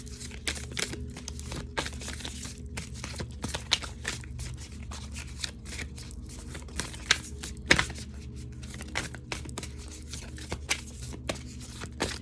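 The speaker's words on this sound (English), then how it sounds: "I'm gonna shuffle, then we're gonna end this reading." Tarot cards shuffled at the close of a reading: rapid, crisp riffling and slapping bursts repeating steadily for the whole stretch, close and fairly quiet, with no voice.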